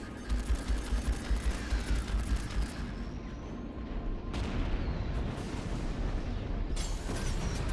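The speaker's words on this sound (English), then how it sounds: "Look at all the missiles." Missiles and explosions fill a space battle in the game Strike Suit Zero: Director's Cut. Rapid rhythmic bursts of fire pound at first, then give way to dense rumbling blasts and roaring detonations, loud and continuous.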